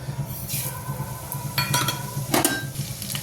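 Cumin, mustard, coriander and crushed fennel seeds dropped into hot oil, giving quick sizzling bursts and crackles mixed with clinks of a spoon against the pan over a low hum.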